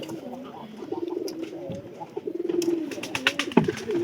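Domestic pigeons coo in a coop, soft repeated low coos running through the clip at close range, with a few sharper bird calls and a voice briefly heard near the end.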